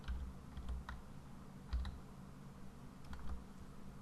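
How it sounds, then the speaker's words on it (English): Typing on a computer keyboard, a quick run of light, irregular key clicks and a few louder taps, heard close and alone with no voices. "Yes, this me typing the fucking IMDb."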